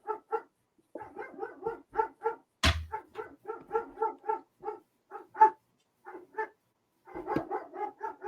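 A dog barks repeatedly indoors as someone arrives home, with quick, close yips in uneven bursts, a loud thump partway through and short pauses between runs.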